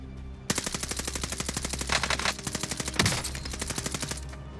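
Rapid automatic gunfire from Call of Duty: Warzone, a Vanguard-style weapon firing in long, steady bursts with a few heavier blasts, loud and close throughout after a brief quiet start.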